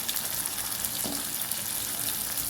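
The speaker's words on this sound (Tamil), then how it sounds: "இந்த ஸ்டேஜில் நம்ம வந்து பூண்டை போட்டு நல்லா வதக்கி விட்டுருலாம்" Garlic cloves sautéing in a pan for a Tamil garlic curry give a steady, close, bright sizzle with no talking, and a brief faint tonal blip rises about midway.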